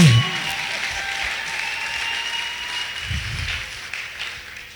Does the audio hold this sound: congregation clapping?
yes